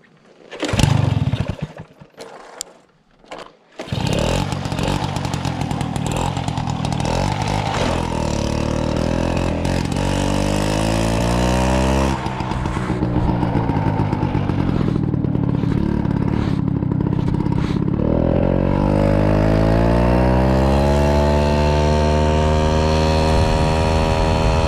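Peugeot 103 moped with a points ignition sputtering through a few false starts, then catching and running steadily at a loud, close, buzzing two-stroke idle with rising and falling revs.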